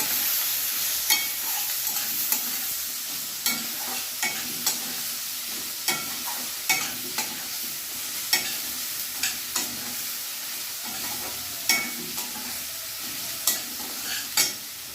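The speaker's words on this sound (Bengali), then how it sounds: "এবারে খুব ভালোভাবে আমি আর একটু ভেজে নেব" Ground coriander and cumin fry in a pan of hot oil with a steady soft sizzle, while a spoon stirs and taps the pan in regular light clicks over fifteen seconds.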